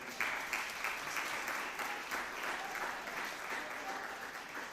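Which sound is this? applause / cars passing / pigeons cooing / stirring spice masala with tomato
applause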